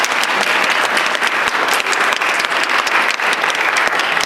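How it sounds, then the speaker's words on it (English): Audience applause for student poetry reciters at a high school Poetry Out Loud semifinal: a loud, sustained crowd of many hands clapping evenly throughout, with no break and no voices rising above it. "Let's give all the students a round of applause."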